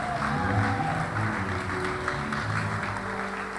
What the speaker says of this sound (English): A huge round of applause for the Herald Choir